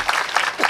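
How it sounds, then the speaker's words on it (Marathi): Audience at a Marathi kirtan performance clapping together in a brief, steady burst of applause with faint crowd murmur, fairly close and even in level throughout. "टाळ्या बाजू एकदा."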